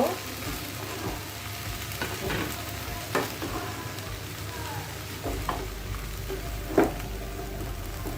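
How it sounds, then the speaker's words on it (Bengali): Water spinach stirred and fried in a pan with softened onion, a continuous close sizzle broken by scraping spatula strokes and light clatter, no talking. "এখন আমি শাকগুলো দিয়ে দিব। এগুলো আমি ভালোভাবে মিশিয়ে নিব।"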